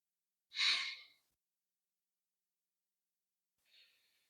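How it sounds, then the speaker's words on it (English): A single deep breath is let out in a soft, airy sigh, then after a long silence a faint, brief second breath follows, close and quiet. "Let's start with some deep inhales and long exhales."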